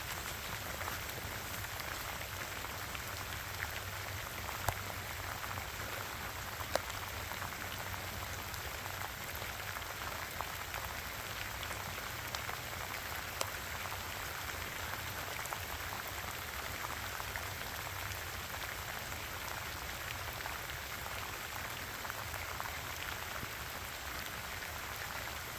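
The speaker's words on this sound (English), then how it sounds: "Keep me dry when I'm out here working in the rain doing stuff." Steady outdoor rain pattering on surfaces, a dense continuous hiss holding at an even level throughout with no talk over it.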